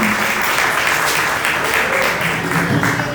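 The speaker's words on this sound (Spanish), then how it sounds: "Dele ese fuerte aplauso al Señor" A church congregation gives a loud, sustained round of applause, dense clapping filling the space steadily for a few seconds with a few voices mixed in.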